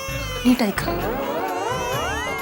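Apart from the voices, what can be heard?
small baby crying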